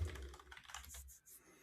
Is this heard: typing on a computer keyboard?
yes